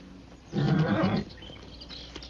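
A horse whinnies once in a Western film scene, a loud, shaky neigh lasting under a second, standing clear above a quiet background.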